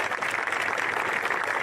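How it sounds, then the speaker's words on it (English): Steady applause from an audience at a football showcase camp, a dense, even patter of clapping that holds at a constant level throughout the short stretch. "everybody give a round of applause to Coach O'Connor and Lincoln"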